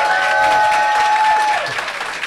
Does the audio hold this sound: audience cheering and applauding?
yes